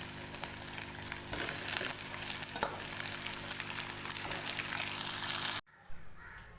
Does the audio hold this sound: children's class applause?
no